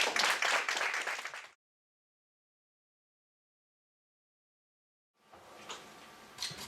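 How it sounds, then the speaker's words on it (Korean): A conference audience at an open house event applauds to welcome a speaker, a loud burst of clapping that cuts off, then after a silent gap a fainter, thinner round of claps returns. "박수를 모셔주십시오"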